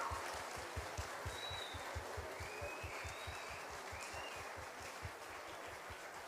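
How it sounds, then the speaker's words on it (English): An audience applauds students after a school play in English, a steady sustained clapping of many hands with sharp individual claps standing out, continuing evenly with no voices. "let's give them a big applause to the students"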